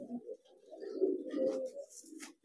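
Soft, low cooing from a giring pigeon rolls on in repeated throaty phrases, close by, with a few faint chirps from other birds in the background.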